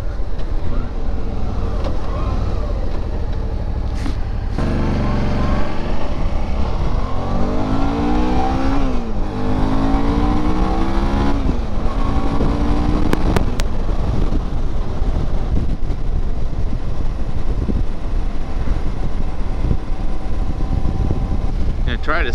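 Suzuki V-Strom adventure motorcycle riding through woods, a steady engine drone with rising and falling revs amid heavy wind rush, continuous and close, with someone talking at times.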